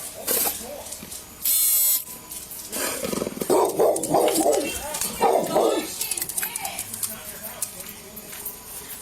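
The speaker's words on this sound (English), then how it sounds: "holding back a bunch of barking dogs" Dogs bark in scattered bursts amid voices and commotion, with a brief buzzing whine early on; the barking is mixed under people talking.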